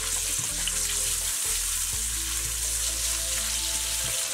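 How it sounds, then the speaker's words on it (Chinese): Meat stir-frying in cooking oil in a wok makes a continuous loud sizzle, with clanking strokes of stirring and a low hum underneath. "锅中倒点食用油，把切好的肉下入锅中炒至变色"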